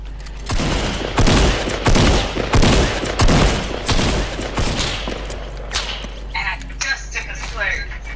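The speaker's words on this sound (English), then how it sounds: "That was a hunting rifle." Rapid volleys of gunfire in Fortnite, including hunting rifle shots, crack out in dense bursts over several seconds, then thin to scattered shots and pings as the action tapers off.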